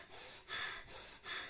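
A voice imitates heavy, out-of-breath breathing, giving three close, quick, rasping breaths in a steady rhythm.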